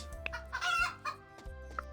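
Chickens cluck in short bursts in the farming video game Cropia, with a few sharp peeps and low rhythmic clucks close by, set over a steady game background tone with no talking.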